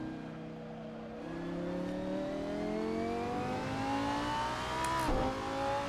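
A Lamborghini Super Trofeo race car in a sim racing game at Donington Park is held in second gear, its engine droning steadily and climbing in pitch for several seconds, with a brief blip near the end.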